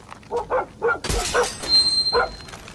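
A dog in the video game Far Cry 6 gives a few short, close barks and yips, then a sudden crash. More whimpering yelps and a thin high tone follow.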